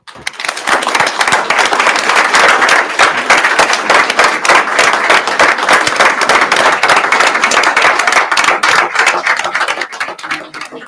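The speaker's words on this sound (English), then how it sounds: "I hope everyone in this room gives a huge round of applause to Mr. Gary McAllister" Board of school trustees meeting audience gives a round of applause, dense and loud clapping from a roomful of people, sustained evenly for about ten seconds before tapering off.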